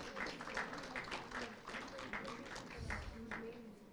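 Audience applause at an awards ceremony honouring health workers, a dense patter of many hands clapping at moderate level with a voice speaking over it.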